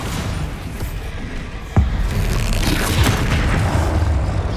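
A Bombarda spell blast in the Hogwarts Legacy video game, a single loud booming burst that rises above a steady bed of game noise, followed by some rumbling mechanical activity.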